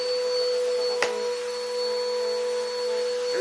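A vacuum cleaner runs steadily with a constant motor whine and airflow hiss, close and loud throughout, with one brief click near the start.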